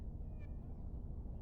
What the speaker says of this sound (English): This is the other voice of the kitty that I've been hearing.